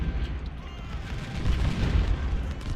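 Continuous battlefield rumble of artillery cannon fire in an Ultimate General Civil War game at the Battle of Shiloh, deep low booms rolling over each other at a steady, distant-sounding level with no distinct single shots.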